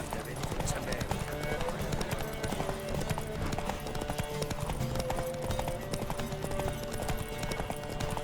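Rapid hoofbeats of galloping horses in a horse race in The Witcher 3 pound continuously, close and loud, with music and bustle layered over them.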